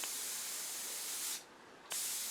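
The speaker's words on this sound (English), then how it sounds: "you just pull the trigger, the air flows out," An airbrush with its trigger pulled releases a quiet, steady hiss of air that cuts out for a moment, then starts again at the same level.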